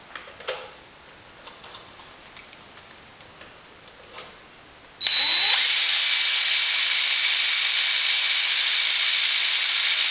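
A power drill bores a hole in an RV-7 wing flap: a few faint clicks and taps of workshop handling, then a sudden loud, steady high-pitched drill whine running to the end.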